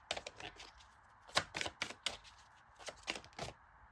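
Oracle cards being shuffled and one drawn from the deck, heard as a close, quiet flurry of crisp paper flicks and taps in brief irregular bursts, with no speech.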